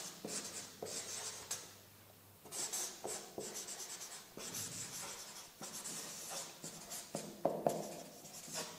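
A marker pen squeaks and scrapes across a whiteboard in a B2B sales training session, with repeated strokes in close, uneven bursts over roughly nine seconds. Nobody speaks while it writes.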